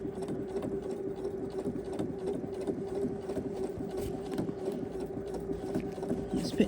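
Sewing machine stitching a scalloped valance pelmet, running in a steady continuous hum with rapid needle patter, moderately close and fairly quiet, with no talking.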